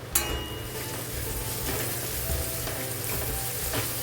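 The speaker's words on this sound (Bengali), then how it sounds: "জিরের গুঁড়ো দিয়ে ভালো করে নাড়াচাড়া করে দেবো" Masala with cumin powder and coriander powder, stirred and fried in a pan for egg curry, sizzles steadily and closely throughout, with a brief scrape of the spoon near the start.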